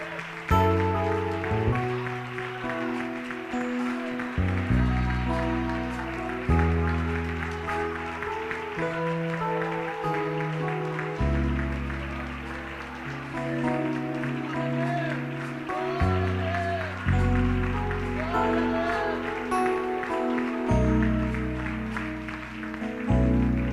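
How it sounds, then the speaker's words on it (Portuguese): A church congregation claps at the close of a service, a broad, continuous wash of applause mixed with sustained, changing keyboard or organ chords that dominate the low end throughout. "Vamos dar uma salva de palmas ao Senhor."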